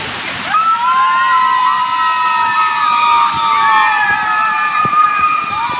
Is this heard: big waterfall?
yes